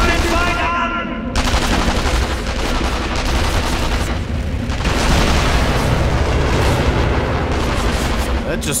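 Gunfire in the video game Sniper Elite V2 goes on almost without pause: loud, rapid shots and booming blasts overlap throughout, intensifying after the first second.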